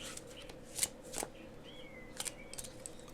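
Cards being handled and drawn from a round Kawaii Tarot deck, faint soft riffling and a few light crisp flicks and taps close by in a quiet room.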